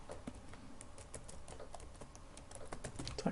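Keys clatter on a computer keyboard in a steady, fairly quiet stream of light taps and clicks that grows slightly busier toward the end.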